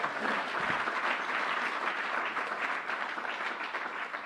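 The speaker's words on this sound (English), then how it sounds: "Let's give Eric a round of applause" Applause from an audience at a New York state government press event, a dense, continuous roar of many hands clapping for over four seconds, steady and fairly distant, with no talking.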